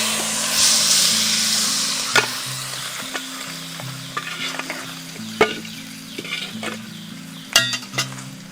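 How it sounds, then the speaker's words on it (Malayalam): A sizzling tempering poured into Kerala-style tripe (botti) roast and stirred, a steady frying hiss broken by sharp clinks and scrapes of the spoon against the pan, close up, with soft music in the background. "നമ്മൾ ഈ തയ്യാറാക്കി വെച്ച ബോട്ടി റോസ്റ്റിലേക്ക് നമ്മൾ ഈ വറവിടുകയാണ്."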